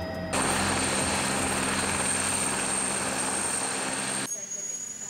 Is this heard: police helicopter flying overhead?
yes